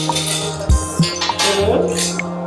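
Metal cutlery, a spoon, salad fork and dinner fork, being laid out on a spring table setting, several light clinks and taps close up.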